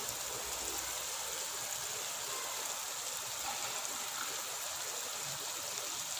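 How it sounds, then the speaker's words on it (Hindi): Water from a glass poured into a cooking pan while chicken and peas cook, a steady broad hiss and trickle that runs evenly for several seconds with no talking. "एक गिलास पानी ऐड करूँगी"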